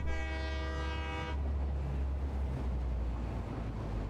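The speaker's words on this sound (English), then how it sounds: "We'll be able to catch a train." A train in the factory-building game Satisfactory sounds a long tonal horn blast over a heavy low rumble, then rolls on as a steady loud grinding drone.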